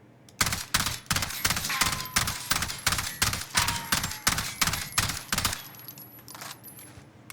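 AUG rifle in Warzone firing in short rapid bursts at a 10 meter target, sharp loud shots in a quick regular rhythm with brief pauses between bursts, then fading into quiet.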